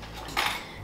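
Spoons clink together in a short, light metallic clatter lasting under a second, close by and fairly quiet against a soft room background.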